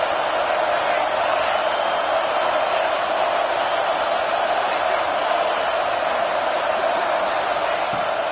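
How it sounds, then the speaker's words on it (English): Steady stadium crowd roar from an NCAA college football video game, a dense continuous wash of noise holding at an even level throughout with no distinct cheers or breaks. "This crowd trying to make life miserable for this offense."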